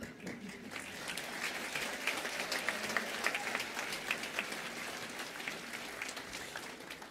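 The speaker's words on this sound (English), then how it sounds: "this is the best clapping group of graduates and families we've ever had" Graduates and families at a fall 2020 convocation ceremony clap together in sustained, dense applause of fairly even loudness throughout.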